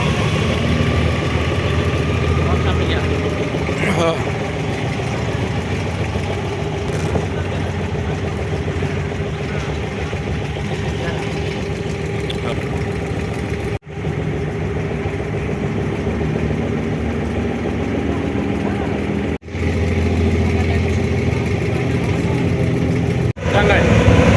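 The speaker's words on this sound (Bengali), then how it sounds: "দুবাইও ট্রলারে উঠতেছি ময়লা পানির মধ্যে" Engine of a small trawler boat carrying passengers across Dubai Creek, a steady mid-pitched drone running throughout with continuous chatter of people on board over it.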